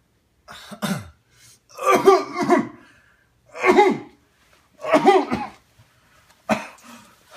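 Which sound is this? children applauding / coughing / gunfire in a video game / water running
coughing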